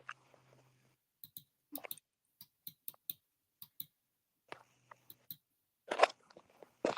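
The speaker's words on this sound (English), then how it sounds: "Why do I just hear a mouse clicking? Because that's what I'm using, a mouse." A computer mouse clicks in short, sharp, isolated taps spaced irregularly in a quiet room, close and fairly faint, with a few softer rustles between them and no talking.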